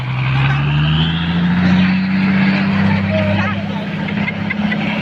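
A John Deere tractor engine drones steadily with a low, rising hum, loud and close, while voices talk in the background, as it helps pull a dump truck stuck in mud.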